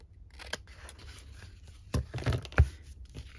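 Scissors snip paper being trimmed for a handmade cheque booklet, a few quiet cuts with a louder cluster of snips near the end, close by and with no talking.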